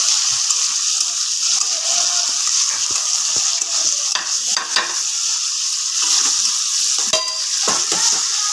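Ginger-garlic paste sizzles and spits in hot oil in a pan, the base for a Bengali mung dal cooked with fish heads, with a steady loud frying hiss and occasional stirring scrapes, no talk.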